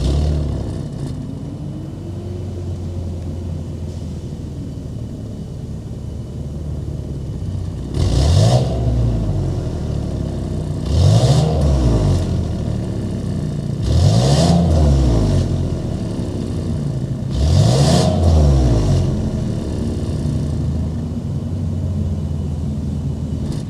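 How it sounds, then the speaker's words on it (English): A 2023 Cadillac XT6 Sport's naturally aspirated V6 revs four times at steady intervals, each exhaust blip rising and falling over a constant deep idle rumble. "Let's go inside, start it up, so you can hear that exhaust note."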